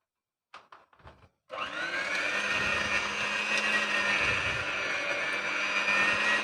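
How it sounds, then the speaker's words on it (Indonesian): Electric stand mixer kneading bread dough after butter and salt are added, a steady loud motor whir with rhythmic churning, running continuously after a few brief knocks at the start. "Ini kita mixer sampai adonannya kalis."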